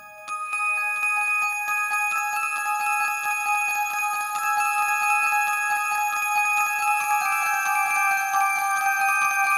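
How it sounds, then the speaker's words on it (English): Shimmering bell-tone presets from a Boss GM-800 guitar synthesizer ring out as a dense run of struck metallic notes with long overlapping sustains, steady and close, with no voices. "So cool bell sounds."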